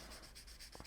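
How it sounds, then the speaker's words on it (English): A blending stump rubs across paper while a hyper-realistic pencil portrait of the Statue of David is shaded. The soft, steady scratchy strokes sit close and continuous, with a couple of brief, firmer scuffs near the end. "So I use my blending stump."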